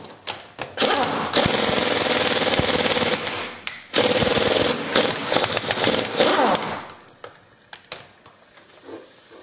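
An Ingersoll-Rand 231 impact wrench hammers loudly against a torque tester in long, harsh rattling bursts that stop and start, separated by short pauses, then trail off into quieter clanks.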